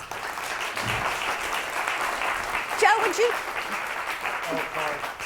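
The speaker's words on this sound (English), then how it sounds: "let's give Joe a big round of applause" An audience at a business event claps in a steady round of applause, while someone speaks briefly over it midway.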